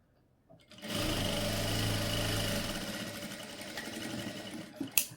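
A sewing machine stitches the darts on a blouse front panel, running in one steady, fast whirring burst for about two seconds before slowing and stopping, followed by a couple of small clicks.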